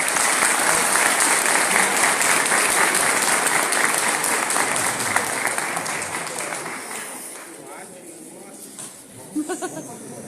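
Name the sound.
audience applause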